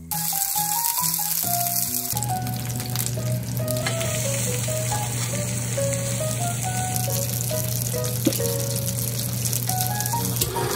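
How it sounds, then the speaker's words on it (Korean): Mackerel fillets fry in a generous layer of oil in a pan, giving a steady, loud sizzle and crackle that runs throughout with no speech and light background music. "팬에 기름을 넉넉히 두르고 고등어를 노릇노릇하게 구워줍니다"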